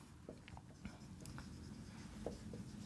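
A pen scratches and taps across a surface as someone writes out notes during a maths lesson, faint, close and irregular, with small strokes and pauses and no speech.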